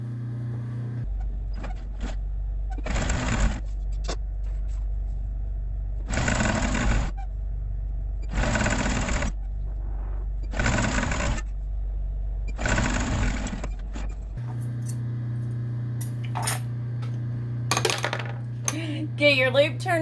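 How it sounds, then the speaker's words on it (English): A sewing machine stitches fabric for a fabric necklace in five steady bursts of about a second each, separated by short pauses, close and clear, with small clicks and handling noises afterward. "we're going to sew from selvage all the way to selvage"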